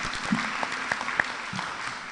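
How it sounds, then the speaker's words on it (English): Audience applause at a Nairobi City County climate action plan event, honoring cabinet colleagues: steady, moderately loud clapping from a seated crowd with scattered sharper claps standing out. "Please give them a hearty clap."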